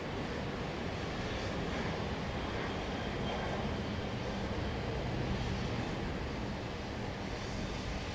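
Boeing 737-800 airliner in Avelo livery taking off at Dallas Love Field at night, a steady broadband jet roar that holds constant and moderately distant throughout, with no clear breaks.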